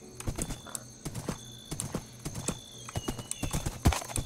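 Horse hooves clip-clop in Minecraft 1.20 survival, a steady run of light, game-styled hoofbeats with an occasional whinny, fairly close and alone, no talk over them.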